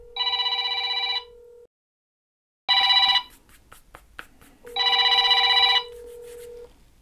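A Samsung S22 Ultra fitted in its official case rings with an incoming call, a loud electronic ringtone in three bursts separated by short pauses, with faint handling clicks between them and no talk.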